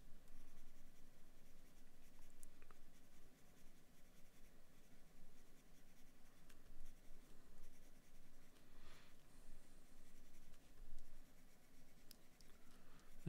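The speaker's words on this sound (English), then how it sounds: "So I'm doing all this with the B pencil at the moment." A B pencil scratches and scrapes across paper while shading a mountain drawing, soft close strokes in an irregular rhythm, faint and continuous without speech.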